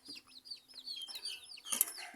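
Soft clucking and chirpy calls from a chicken, a series of short notes close by with faint background.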